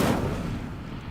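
The Incendio fire spell is cast in Hogwarts Legacy, giving a sudden loud whooshing burst of flame that roars up at once and then fades over about a second.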